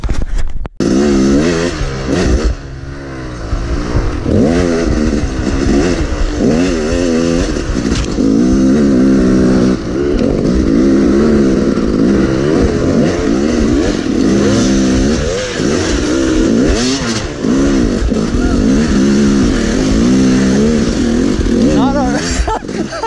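A seven-year-old, unmaintained Yamaha YZ 250 two-stroke dirt bike revs loudly and close, its buzzing engine rising and falling in repeated surges and sputters, while people talk over it.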